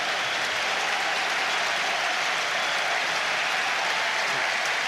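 A rugby crowd at Ireland versus Namibia applauds a try, a dense, steady wash of clapping and cheering heard at a distance, sustained throughout without a break.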